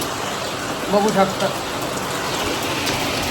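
Heavy May rain pours down in Nagar city, a dense, steady hiss of falling water throughout, with a brief spoken phrase briefly rising over it.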